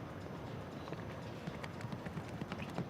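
Horse hooves thud across the sand of an outdoor show jumping arena during a five-star Grand Prix jump-off, a steady cantering rhythm of soft low beats under a broad, distant crowd ambience.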